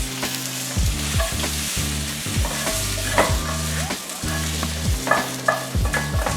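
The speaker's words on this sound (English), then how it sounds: "Now that our onions and garlic are nicely browned, add them right into your soup base." Browned onions and garlic tipped into a birria soup base give a steady sizzle, with rhythmic stirring and scraping repeating every second or so, close and fairly loud, no voices.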